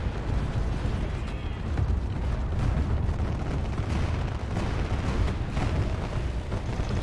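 Long-range weapon fire and explosions in a Space Engineers PvP battle with Warhammer 40K-style ships, a dense, continuous rumble of booms and bursts that stays loud and steady throughout.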